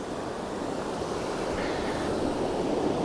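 A main waterfall flowing nicely through an outdoor landscape scene, heard as a steady, dense rush of falling water that fills the whole clip without pause, with no voices over it.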